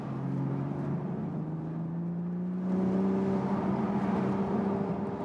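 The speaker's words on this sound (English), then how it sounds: "Blopping from the exhaust valve." A BMW M car engine drones steadily from inside the cabin, its pitch rising slightly partway through as the revs climb, with a low, continuous rumble and no distinct exhaust pops standing out.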